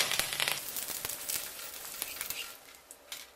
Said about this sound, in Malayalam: നമുക്ക് ഈ എണ്ണയിലോട്ട് കുറച്ച് കറിവേപ്പില വറുത്തെടുക്കാം.